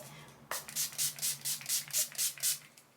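About ten quick, close hissing spritzes from a makeup setting spray bottle, one after another in an even rhythm after a brief quiet start.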